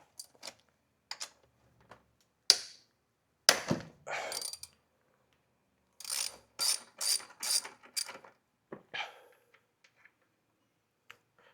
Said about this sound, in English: So let's take those two bolts off.